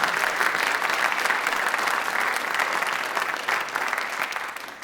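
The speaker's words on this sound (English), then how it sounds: "Can we get a round of applause for that?" A lecture audience at a journalism event applauds warmly, a dense and even wash of clapping that holds loud and steady before easing slightly at the end.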